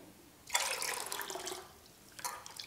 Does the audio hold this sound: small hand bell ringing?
no